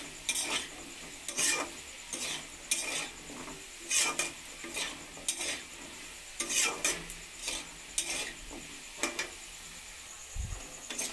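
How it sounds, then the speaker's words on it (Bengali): Potatoes frying in oil with salt and turmeric for a vegetarian ghugni, stirred repeatedly so bursts of scraping and sizzle rise over a steady low hiss, close and moderately loud, with no talking. "নুন হলুদ দিয়ে আলুটাকে আমি লাল করে ভেজে নিচ্ছি।"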